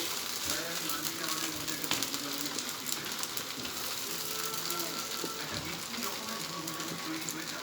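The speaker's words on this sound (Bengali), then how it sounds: "অল্প রিফাইন তেল দিয়ে দিচ্ছি, অল্প মুগ ডালের পাটিসাপটা হচ্ছে।" Mung dal patishapta frying in a little refined oil in a pan, a steady sizzling hiss running throughout at moderate level.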